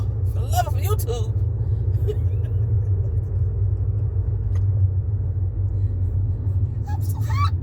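A steady low road rumble fills a car interior while driving. Brief voices cut in over it at the start and near the end.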